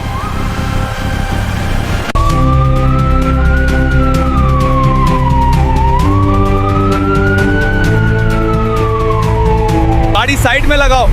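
A police car siren wails loudly and steadily, its pitch sweeping slowly up and down for several seconds over engine rumble, with a short burst of other noise at the end.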